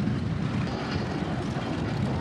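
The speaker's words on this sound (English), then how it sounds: "This is a 1948 John Deere H." A 1948 John Deere H antique tractor runs past in an outdoor parade, giving a steady, moderately loud mechanical rumble without distinct beats and with no one talking.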